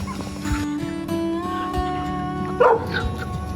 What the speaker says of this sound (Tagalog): Daming manok pala dito kuya ninyo.